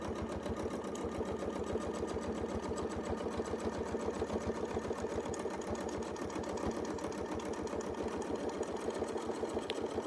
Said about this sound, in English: sew the whole thing right back to the center